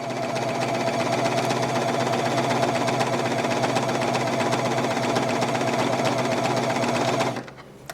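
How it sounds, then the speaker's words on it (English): A Bernette B42 coverstitch machine stitches steadily across a fabric edge, a loud, even mechanical whir that runs continuously for about seven seconds before stopping abruptly near the end. "Now all I have to do is simply stitch"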